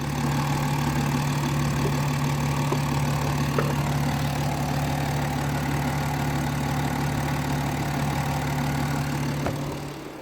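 BMW E90 330d diesel idling roughly after a cold start, a steady low drone with a faint irregular knock and slight shake, close and continuous throughout.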